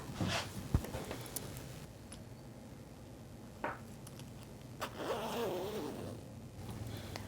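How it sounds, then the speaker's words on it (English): A newly installed zipper on a reversible hoodie being zipped, giving a few close, quiet rasping pulls with soft handling noise between them. "Let's go ahead and try to zip it."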